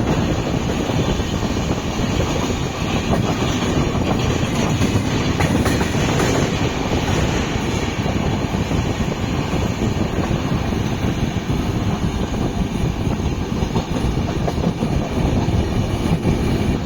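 The Puducherry–Yesvantpur Express passenger train running, a loud, steady rumble of wheels and carriage noise with faint rhythmic clatter throughout, heard continuously from on board with no talk.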